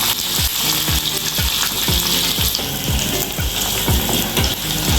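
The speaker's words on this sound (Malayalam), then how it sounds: "എല്ലാം കൂടെ നല്ലതായിട്ടൊന്ന് നമുക്ക് ഇളക്കി മൂപ്പിച്ചെടുക്കാം." Curry leaves and shallots crackle and fry in hot oil in a pan for a Kerala fish curry, a dense, loud sizzle with steady rhythmic scraping strokes of a stirring spoon, no voices.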